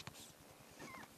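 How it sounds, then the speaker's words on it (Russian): Newborn kitten giving a short, thin, high meow close up, one brief cry lasting about a second. "Блин, все, он мяукает."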